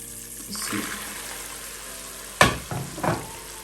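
Popcorn is stirred into cooking sugar in a pan for sweet rainbow popcorn, giving a low sizzle with a sharp scrape and a few shorter rustling stirs near the end.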